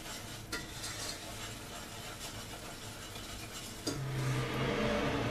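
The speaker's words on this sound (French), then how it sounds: "On n'oublie pas de remuer notre sucre et notre beurre qui doivent être bien fondus jusqu'à ce que ça fasse un petit caramel" Sugar and butter melting into caramel for a tarte tatin, stirred in a pan with soft scraping and a low sizzle, then a louder bubbling burst with a utensil clink near the end.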